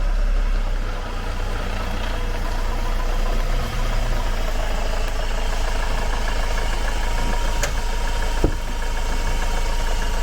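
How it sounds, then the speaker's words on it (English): A van engine idles steadily and close by while the vehicle is driven over a wheel hub to hold it in place, a constant low rumble with a brief knock partway through. "driving over this to hold it in place, because we physically can't hold it"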